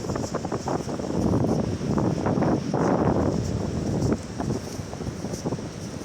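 Wind buffets a Doogee S98 Pro smartphone's microphone in uneven gusts, a rough low rumble that swells and eases continuously.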